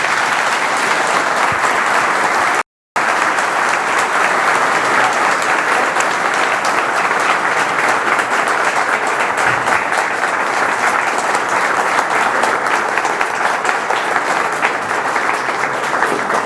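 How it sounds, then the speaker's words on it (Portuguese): Sustained applause from a lecture audience at a political talk, steady dense clapping filling the room with a brief dropout early on and no talk over it. "Uma salva de palmas para você."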